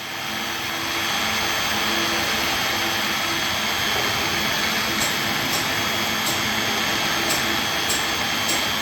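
A homemade low-cost 3-axis microcontroller-based CNC milling machine runs with a loud, steady motor whine and hum close by, joined by a few faint ticks near the end.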